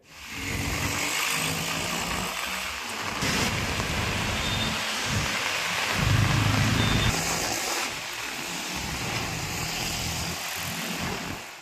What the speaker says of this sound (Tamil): ஒரு மணி நேரத்திற்கு மேலாக சூறைக்காற்றுடன் பலத்த மழை பெய்தது